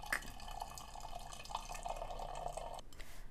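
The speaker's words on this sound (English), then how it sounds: "it makes it easier to pour stuff into a bottle without a funnel because the liquid just follows the stick" Freshly made fruit and vegetable juice trickles down a chopstick into a bottle, a steady close liquid pour with small drips and splashes running until it stops near the end.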